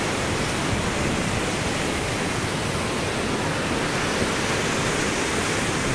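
Floodwater surging through the Prakasam Barrage at Vijayawada makes a loud, unbroken broadband roar, steady from start to finish with no voices.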